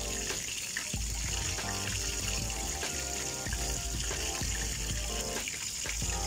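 Chicken necks deep frying in hot oil, a steady, loud, dense hiss and crackle of bubbling oil that carries on without a break.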